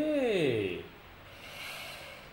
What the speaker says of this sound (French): Maintenant vous reniflez.